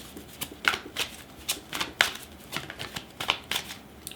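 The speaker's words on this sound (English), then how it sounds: "So I'm going to keep shuffling" Tarot deck being shuffled by hand in a quiet room, a steady run of crisp riffling card bursts with soft flutter between them, close and fairly clear with no talk.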